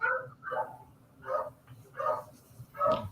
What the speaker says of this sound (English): You can hear that dog out the back of you.